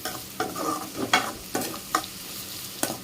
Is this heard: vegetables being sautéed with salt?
yes